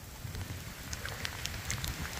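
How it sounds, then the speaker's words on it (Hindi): Heavy rain falls in the mountains, a dense, continuous patter of drops hitting surfaces nearby, steady throughout with no voices. "देखिए दोस्तों कितना तेज बारिश होने लगा"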